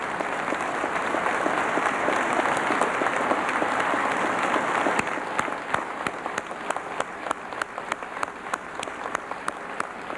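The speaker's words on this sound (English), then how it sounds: "we should applaud them, and I'd like to ask them to stand up" Audience at Norristown Area High School applauding teachers during a 1992 visit by President George H. W. Bush: a dense, steady wash of clapping for about five seconds, thinning afterward into scattered individual claps.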